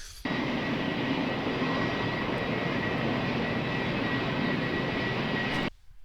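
Airplane engine roar from the 1968 film Bullitt, a loud, steady, broadband drone held for several seconds before cutting off abruptly.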